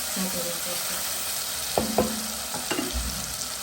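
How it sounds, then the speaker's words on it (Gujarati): Tomatoes sautéing in oil in a pan give a soft, steady sizzle with a few stirring scrapes and clacks from a spoon, close and fairly quiet. "આપણે ટામેટાને તેલની અંદર સરસ મજાના સાતળવા પડશે જ્યાં સુધી ચડી ના જાય ત્યાં સુધી"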